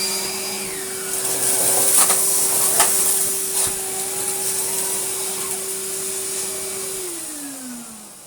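A Henry HVR200 vacuum cleaner runs at full power on carpet, a steady close whine and roar that holds for several seconds and then dips in pitch as the motor slows near the end.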